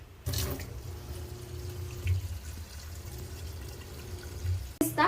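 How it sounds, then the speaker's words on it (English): A kitchen faucet is opened and tap water runs in a steady stream, beginning abruptly after a short pause and continuing close and constant with a brief interruption near the end. "Let's go to the kitchen and let's open the faucet."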